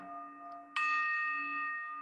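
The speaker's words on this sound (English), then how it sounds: "you'll hear these bells come into view in just a moment" Meditation bells strike once with a bright, sudden attack and ring on in a long, sustained shimmer of layered tones that slowly fade, heard alone over a quiet steady hum.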